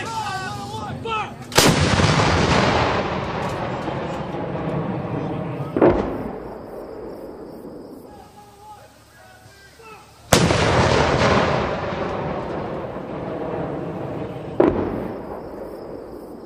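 U.S. Army M777 howitzers on a live-fire range, two heavy booming shots several seconds apart, each followed by a long rumbling echo, with voices calling out in between.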